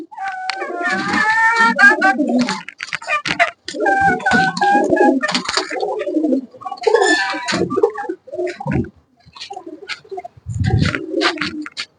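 Pigeons coo and call in overlapping bursts, several birds close by with warbling, rising cries over lower throaty coos, pausing briefly between bouts.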